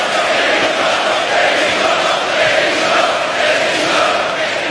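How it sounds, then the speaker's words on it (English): A sellout crowd at an AEW Continental Classic wrestling event in Manchester, a loud, dense arena roar of cheering and shouting that holds steady throughout. "Sellout crowd here in Manchester, enjoying the action in the Continental Classic."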